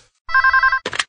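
A telephone rings with an electronic warbling bell in a steady burst of about half a second, then a short, louder, noisier tone follows. Heard close and alone, with no talk.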